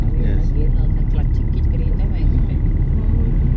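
A car engine drones steadily from inside the cabin during a driving lesson as third gear is engaged, a constant low rumble with no clear rev change, while an instructor's voice talks over it.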